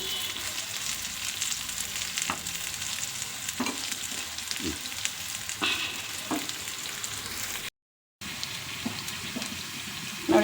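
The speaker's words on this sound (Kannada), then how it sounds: "ಈರುಳ್ಳಿ ಒಂದು ಸ್ವಲ್ಪ ಕೆಂಪಗಾಗೋವರೆಗೂ ಹುರ್ಕೋಬೇಕು ಫ್ರೆಂಡ್ಸ್." Onions sizzle and fry in a pan for mutton sukka, with a steady crackling hiss, a few stirring scrapes and a short break in the sound.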